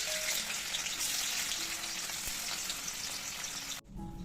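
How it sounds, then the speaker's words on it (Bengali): Paneer pieces frying in hot oil, a continuous close sizzle with fine popping that holds steady and then cuts off abruptly near the end, leaving a quieter background. "এই যে আমি এখন পনিরগুলো এক এক করে সব ভেজে নেব"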